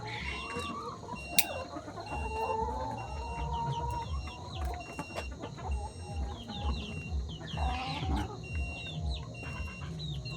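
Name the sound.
laying hens clucking in a farm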